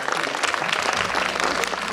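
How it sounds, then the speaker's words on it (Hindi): A crowd claps loudly at the Pride of Asansol award ceremony, a dense, continuous burst of many hands applauding together. "प्लीज़ इस कार्यक्रम के लिए एक बार जोरदार तालियां बजाइएगा"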